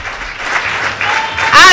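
A church congregation claps and cheers in a loud, dense burst of applause during a sermon, with voices calling out over the clapping.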